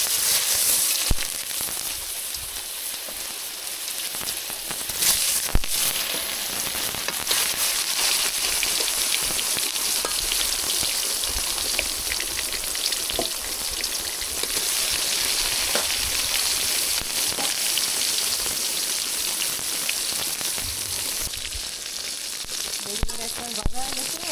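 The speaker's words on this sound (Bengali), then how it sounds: "বেগুনে হলুদ গুঁড়ি, ঝালের গুঁড়ি আর লবণ দিয়ে মাখায় নিছি, এখন ভাজে নিচ্ছি।" Eggplant slices coated with turmeric, chilli powder and salt frying in hot oil, a steady close crackling sizzle running throughout with occasional sharper pops and no talk.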